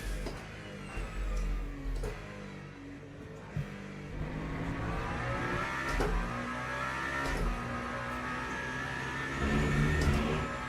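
A hypercar engine in the racing game Le Mans Ultimate roars steadily and loudly, rising and falling through gear changes and revs, with a continuous whine and no voices.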